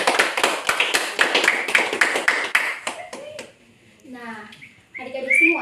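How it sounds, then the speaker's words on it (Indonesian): A short burst of classroom clapping for a student, several pairs of hands tapping quickly before tapering off into a few scattered claps, followed by a voice beginning to speak. "Berikan aplaus dulu untuk temannya"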